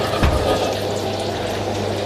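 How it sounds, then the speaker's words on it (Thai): Cooking oil is poured into a pan for stir-fried wide rice noodles with pork, a brief close liquid gurgle followed by a low steady background hum. "เทน้ำมันลงไปรอร้อนนิดนึง"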